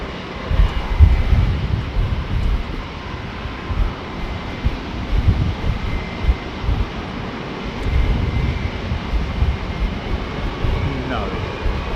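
Qatar Airways Airbus A380 jet airliner arriving in gusty wind, a broad steady engine roar with heavy low rumble and buffeting wind noise on the microphone throughout, fairly loud and continuous.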